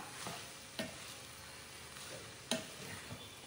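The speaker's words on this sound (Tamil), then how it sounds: "அப்படியே நல்லா எல்லா வெஜிடபிள்ஸும் நூடுல்ஸோட மிக்ஸ் ஆகிற மாதிரி மிக்ஸ் பண்ணி விடணும்" Vegetable and paneer hakka noodles are stirred in a pan, with soft frying sizzle and a few sharp spatula scrapes against the metal.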